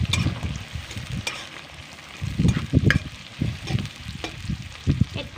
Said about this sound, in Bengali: তেলটা গরম হয়ে গেছে, এবার এর মধ্যে দিয়ে দিচ্ছি কতগুলো পেঁয়াজ কুচি,